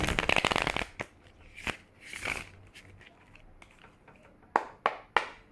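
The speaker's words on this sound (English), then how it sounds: "We're going to do 3 shuffles with the deck." Cards being shuffled in quick riffling bursts, a dense flurry at first, then a few softer ruffles and three sharp snaps near the end, close by.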